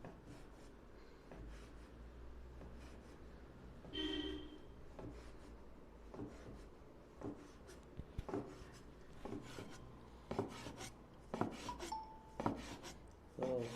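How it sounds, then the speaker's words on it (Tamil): A knife cuts folded maida dough into flat noodles on a board, giving soft, close scraping and tapping strokes in an irregular rhythm, faint and with no talk. "இப்போ ஃப்ளாட்டாக நூடுல்ஸ் கட் பண்ணுறோம்."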